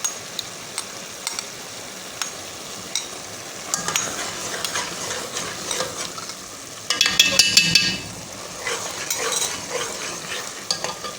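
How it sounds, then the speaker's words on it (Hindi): Bottle gourd halwa is stirred and roasted in ghee in a pan, with a soft sizzle under repeated scraping and clinking of a spoon, and a louder burst of sizzling and stirring midway. "तो अभी हम इसको और भूनेंगे और इसके साथ ही इसमें जो आधी प्याली घी बचाया था हमने वो हम इसमें घी डाल देंगे"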